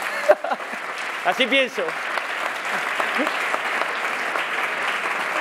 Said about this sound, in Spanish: al que pido que le deis un aplauso